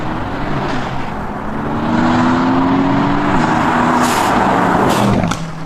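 A Renntech-tuned Mercedes-AMG GT-S with 625 horsepower drives hard along British country B-roads, its engine droning and revving steadily with rising pitch through gear changes, loud and continuous.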